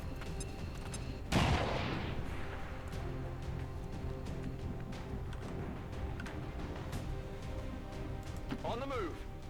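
A grenade blast bursts loudly in the XCOM 2 Long War mod, a sharp broadband boom that decays over a couple of seconds, followed by a steady layer of battle noise, faint crackling shots and a voice talking underneath.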